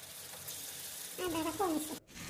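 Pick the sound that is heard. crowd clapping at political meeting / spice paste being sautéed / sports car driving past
spice paste being sautéed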